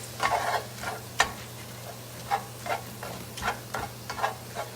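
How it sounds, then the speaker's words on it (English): Lean ground beef cooks in a pan with a soft, steady sizzle while a utensil scrapes and stirs it in irregular clicks and taps, close and fairly quiet. "But all my ground beef, I'm gonna cook this up and get this nice and cooked."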